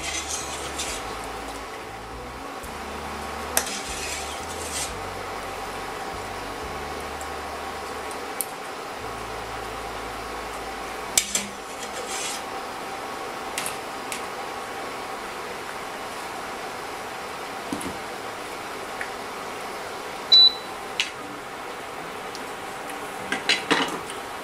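Freshly boiled spaetzle, homemade the old-fashioned way, are tipped into a colander: scattered clinks and taps of metal and utensils over a quiet, steady background, with a few sharper knocks near the middle and end.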